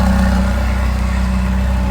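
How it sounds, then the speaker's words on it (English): A Ferrari California T convertible grand tourer idles with a deep, steady exhaust rumble, loud and close, holding an even low throb without revving. "the beautiful exhaust system with a loud"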